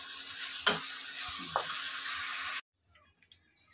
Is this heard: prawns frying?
yes